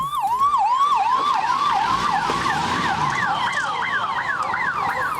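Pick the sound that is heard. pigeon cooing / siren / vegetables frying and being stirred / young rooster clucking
siren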